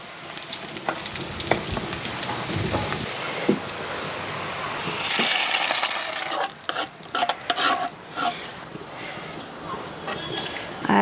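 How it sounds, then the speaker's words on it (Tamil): Mustard seeds, cumin, onion and garlic frying in a clay pot over a wood-fired stove, with close stirring scrapes and crackling and a loud hissing surge midway, then choppy clattering stirs. "கொஞ்சம் கடுகு சீரகம் போட்டு பொரிஞ்சதுமே கொஞ்சம் ஒரு ரெண்டு வெங்காயம் ஒரு பூண்டு பல் வெட்டி போட்டிருக்கேன்"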